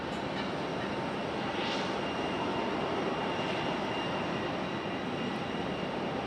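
A Frontier Airlines jet landing on runway 5 left at Raleigh-Durham International Airport, heard as a steady, broad engine roar that stays even and continuous throughout without fading.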